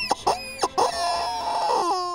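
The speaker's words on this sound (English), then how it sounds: "those chickens that make that noise when you squeeze them" A squeezable rubber toy chicken lets out a few short squawks followed by a long, drawn-out honking squeal, loud and close, with no talking over it.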